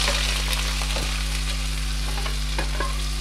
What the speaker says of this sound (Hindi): उसके बाद ये मैं इसमें ये बघार डाल दूँगी।